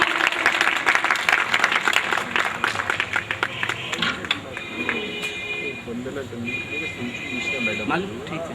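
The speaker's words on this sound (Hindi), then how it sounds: "एक बार जोरदार तालियां" An audience at a Delhi social-service event of a youth women's organisation claps in a dense burst of applause for about four seconds, which then fades as someone speaks over a microphone.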